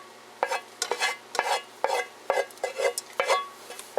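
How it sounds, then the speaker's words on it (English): Onions, celery and butter hit a soup pot for potato soup, then get stirred with a spoon. Short scraping strokes come at an irregular pace over a soft sizzle, close and clear, with no talking. "I'm dumping all of the onions and the celery and the butter"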